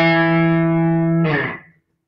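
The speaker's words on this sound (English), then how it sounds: "Actually, when you play the notes individually, it sounds like this." Distorted electric guitar sounding power chord notes one at a time, a sustained buzzing tone that shifts to a brighter note near the end, then cuts off abruptly into silence.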